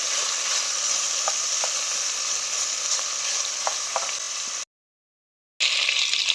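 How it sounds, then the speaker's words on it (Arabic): Meat frying in ghee while being stirred in a pot, a loud constant hiss with scattered spatter pops and scraping, broken by a brief full silence near the end before the sizzle resumes. "بصوا نقلبها كده، نشوحها في السمنه"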